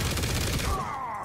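Rapid gunfire from the Punisher character firing with infinite ammo in the video game Marvel Rivals, a short dense burst of quick shots that cuts off into a fading ring.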